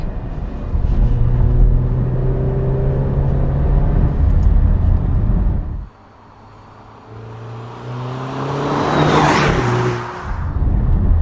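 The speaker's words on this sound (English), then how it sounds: "these downshifts, like, it's nice and quick" An Italian SUV downshifts while being driven, with engine revs rising and falling in quick bursts over steady road and cabin hum, loud and close throughout.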